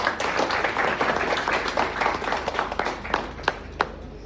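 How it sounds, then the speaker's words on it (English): A crowd of students at a hackathon demo day claps in a dense, continuous burst of applause, close and fairly loud, with a few sharp individual claps near the end. "Can we have bigger applause?"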